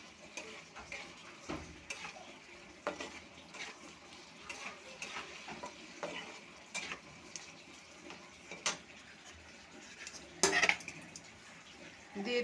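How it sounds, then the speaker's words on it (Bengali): Potatoes are stirred in a pan with a utensil while cooking a spiced curry, giving irregular scraping and clinking strokes against the metal over a faint sizzle, with a louder clatter near the end. "আলুটা একটু নেড়ে নেব।"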